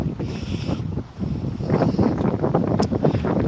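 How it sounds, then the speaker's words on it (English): Wind gusting on a riverside platform near Hamilton, strong low buffeting rush against the microphone that briefly eases then returns louder, with no voices. "It's just a little bit windy today."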